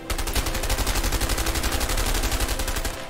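Rapid automatic gunfire from the video game A Way Out rattles off in a dense, loud, evenly spaced burst lasting about three seconds.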